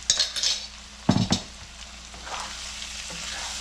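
Vangibath spice mixture being gently stirred into spiced brinjal rice in a hot pan, with a soft sizzle underneath and a couple of quick metallic spoon scrapes in the middle.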